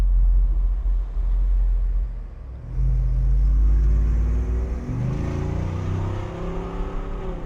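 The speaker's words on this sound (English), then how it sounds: "Hopefully we'll get some good engine sounds in this video." A 2026 Jeep Wrangler Moab 392 engine rumbles loudly nearby, then revs up with a rising growl before settling into a steady throaty idle.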